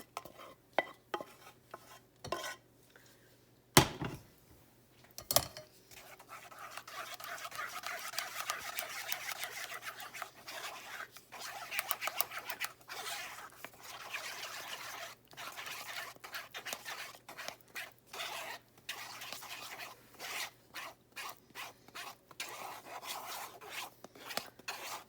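Butterscotch pie filling is pushed and scraped through a metal strainer, giving a faint, rough rasping that runs fairly steadily after a few sharp knocks at the start, quiet and close with no talking.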